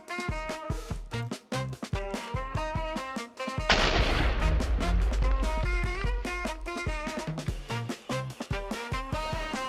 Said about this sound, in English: I ended up finding two different cannons, a bee cannon and a crystal cannon.